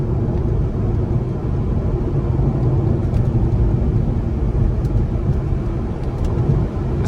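A low-mileage 1998 C5 Corvette rolls over bumpy Indiana roads, a steady low rumble of engine and tires heard from inside the cabin, with only faint soft thumps and no talk.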